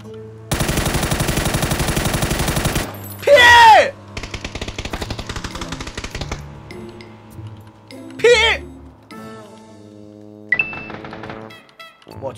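PUBG gunfire rings out in loud, rapid automatic bursts, with single shots and short volleys in between, near and sharp, while a streamer talks and shouts over parts of it.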